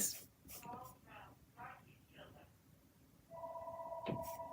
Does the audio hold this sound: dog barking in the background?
no